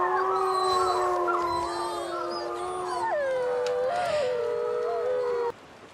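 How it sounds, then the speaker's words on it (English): A rough, lean dog howls dismally in long, sustained, wavering tones that rise and fall, joined by overlapping higher howls, steady and fairly close, before cutting off abruptly near the end. "His companion was a rough, spare dog that followed at his heel, but stopped short suspiciously at the drawbridge, and in a little while began to howl dismally"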